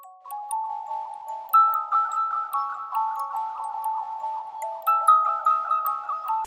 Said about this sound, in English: So I ended up with this bell layer that I first flipped